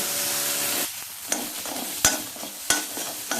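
Aloo tikki filling roasts in a pan on a gas stove, a loud steady sizzle broken by a few sharp scrapes and stirring knocks of a spoon against the pan.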